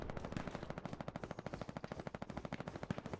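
Automatic weapon fire in the World War II shooter game Hell Let Loose: a rapid, steady string of loud, evenly spaced shots, continuous and without speech.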